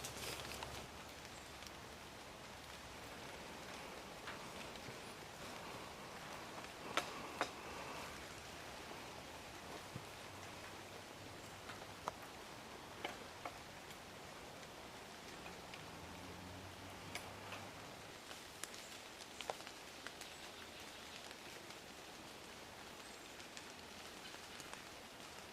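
Rain falls steadily on a forested section of the Appalachian Trail in Connecticut, a faint even hiss with scattered sharp drips and taps on nearby surfaces.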